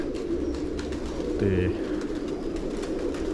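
A pigeon gives one brief, low coo over steady outdoor background noise at a pigeon-flying competition in Punjab, Pakistan.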